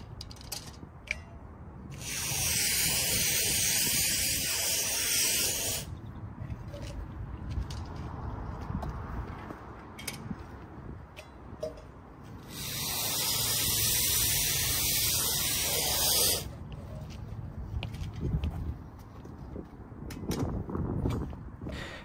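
Foam sprays from a nozzle while solar panel mounts are being fixed in place. There are two loud, sustained hissing bursts of about four seconds each, with quieter handling and rubbing noises between and after them.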